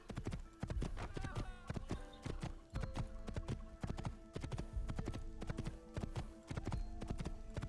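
Horse hooves clip-clop steadily on a city street in Assassin's Creed, a fast, regular trot of sharp clops, close and continuous over busy ambient game sound.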